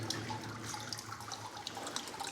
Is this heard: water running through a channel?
yes